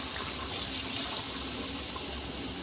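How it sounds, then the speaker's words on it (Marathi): Water pours steadily into ground spice masala, a continuous close splashing gush lasting a few seconds with no talk. "आता आपण त्यात थोडंसं पाणी टाकणार आहे मिक्सर ग्राइंडरमध्ये फिरवून।"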